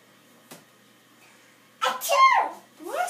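A loud, sudden sneeze bursts out at close range after a brief quiet moment, followed by another sharp nasal burst.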